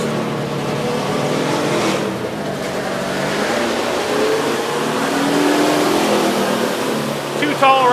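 A NASCAR Toyota stock car engine running in the garage area at Indianapolis, a loud continuous roar with rising and falling revs, someone talking over it.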